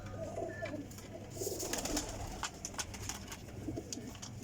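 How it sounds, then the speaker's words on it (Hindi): Pigeons coo in soft, repeated low calls close by, with other birds chirping and flapping faintly in the background. "लो जनाब कबूतर चेक करो माशाल्लाह जी।"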